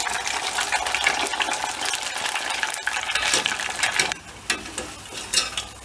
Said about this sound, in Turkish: Bu sesi duyacağız arkadaşlar. Yağın kızgınlık ölçüsüdür bu.